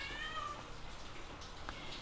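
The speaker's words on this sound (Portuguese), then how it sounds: "Meu gato está aqui querendo entrar." A cat meows to be let in, a short, faint, plaintive call near the start followed by quiet indoor room tone, with no talking.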